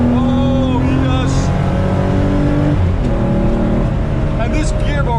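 Close, loud engine of a 1986 Porsche 911 wide-body on the move, revs climbing and dropping in quick steps as gears change, with someone talking over it throughout.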